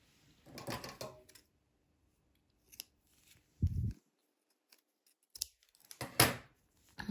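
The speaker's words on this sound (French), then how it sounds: "Et on coupe le fil." Scissors snip through crochet yarn in a few short, separate cuts spread apart by quiet pauses, close and fairly clear with no talking.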